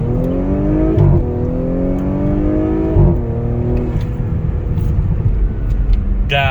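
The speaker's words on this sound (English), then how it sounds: "That is louder. Yeah, and it pulls way harder." An Audi S5 B9 fitted with a high-flow catalytic converter accelerates hard, its loud engine note rising through the gears with brief dips at each shift, close and alone.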